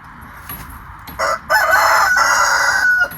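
A rooster crows loudly and close by, its long call stretching out, with hens clucking briefly just before it.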